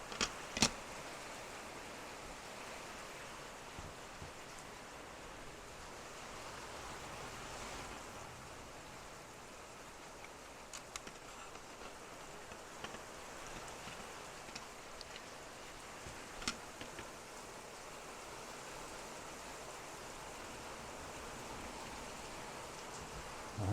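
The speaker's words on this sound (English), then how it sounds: "It's really heavy rain." Heavy rain pours steadily outdoors beside a large-scale RC Armortek Jagdpanther tank being assembled, a dense unbroken hiss with occasional sharper drops and patters, moderately loud and continuous with no talking.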